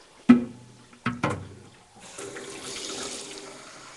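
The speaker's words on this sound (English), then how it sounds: "Now when that drains out, I'll just throw in another quick rinse." Water drains and rushes through a machine during a rinse cycle in a kitchen setting, with a few sharp splashes and clunks early on followed by a steady, moderately loud flowing wash.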